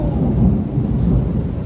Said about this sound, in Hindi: बहुत तेज, मतलब बादल फट रहे हैं